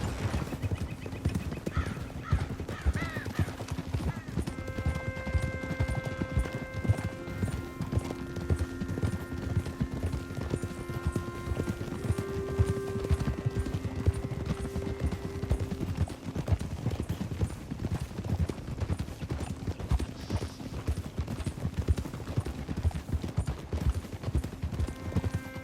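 Horse hooves clip-clop steadily while riding in Red Dead Redemption 2, an even trotting rhythm at moderate level under sustained game music tones, with an occasional whinny.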